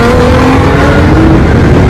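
A fast car's engine revs loudly close by, a strong droning tone that climbs gradually in pitch as it accelerates and holds steady over the two seconds, with no talking.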